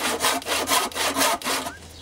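A small hand saw cuts wood in a straw-and-earth building workshop, five steady rasping back-and-forth strokes, close and loud, then stopping.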